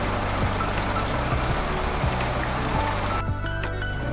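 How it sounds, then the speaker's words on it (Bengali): Sudden heavy rain pouring down on a hot day, a dense, loud hiss of drops hitting surfaces with steady patter, cutting abruptly to a quieter spell near the end. "হঠাৎ দেখি ঝমঝমিয়ে বৃষ্টি আরম্ভ হয়ে গেছে"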